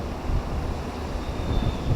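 Strong wind roars and buffets close by in a steady low rush, with gusty rumbling throughout.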